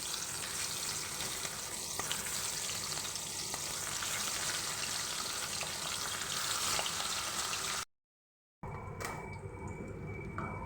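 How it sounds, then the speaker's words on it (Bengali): Fish fries in hot mustard oil in a wok with a loud, dense, steady sizzle and spatter heard up close. The sizzling cuts out for a moment, then returns more quietly alongside faint clinks. "এবার আমি একটা একটা করে মাছ ভেজে নেব।"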